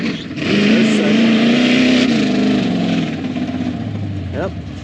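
K5 Blazer with a 350 engine and throttle body revving up, a loud close roar that rises, holds, then drops as the transmission shifts into second, with a voice briefly heard over it.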